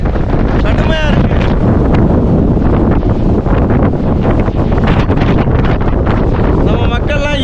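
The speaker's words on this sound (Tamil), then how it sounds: "நம்ம சிவபெருமான நெருங்க காற்று கடுமையா இருக்கு." Strong wind roars across a microphone on a hill trek near a hilltop temple in Dindigul, loud, constant and buffeting throughout, with brief faint voices at the start and end.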